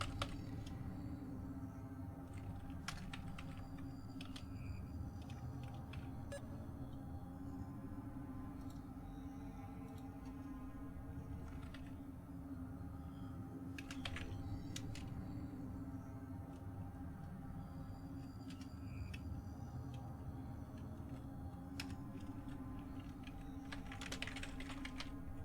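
Steady close typing on a computer keyboard runs throughout, a quiet continuous clatter of key presses with occasional louder strikes over a low hum. No one speaks.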